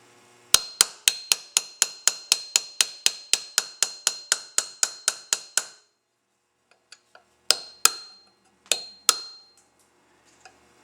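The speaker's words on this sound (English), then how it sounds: "A good sharp chisel." A hammer drives a sharp chisel to cut away a piece of casting, striking about twenty quick, evenly spaced metallic blows, then a pause and a few slower, separate strikes, all close and without speech.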